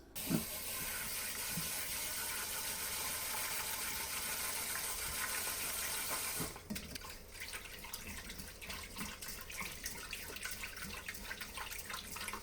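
Rice grains being rubbed and massaged by hand in a bowl of rinsing water for homemade vegan sushi, steady running tap water for several seconds, then softer irregular swishing and sloshing of the grains.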